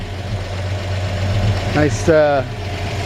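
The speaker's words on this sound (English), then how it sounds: "typical purr and clickety clack of a solid lifter 235 6-cylinder engine" A 1952 Chevrolet 3100 with a solid-lifter 235 six-cylinder engine idles in a steady low purr, with a short spoken remark over it near the end.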